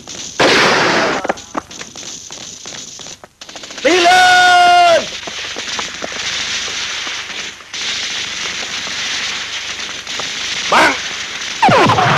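Gunfire in a Vietnamese war film set among South Vietnamese soldiers in the Central Highlands, loud bursts and shots mixed with shouting voices and a ringing tonal sound in the middle.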